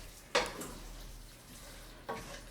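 Beef curry with stock simmering in a pot, a quiet low bubbling bed broken by two brief scraping clinks of a spoon stirring against the pan.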